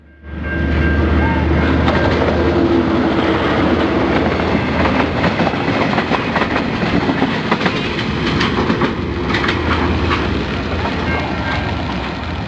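A DL class locomotive hauling a train past at close range, a loud continuous roar of engine and rolling wagons with rhythmic clickety-clack of wheels over rail joints throughout.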